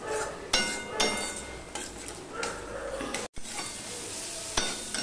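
Spice paste fries in oil in a pan for a Bengali ash gourd dish, with a constant sizzle under repeated scraping stirs and an occasional utensil clink; the sound is close and continuous and broken by one brief dropout.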